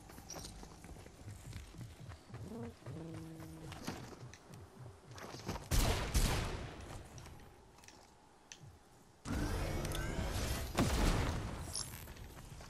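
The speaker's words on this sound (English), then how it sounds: "You shooting people?" Gunfire in the Fortnite video game, sharp shot bursts around the middle and a dense run of firing near the end, over busy in-game ambience and footsteps.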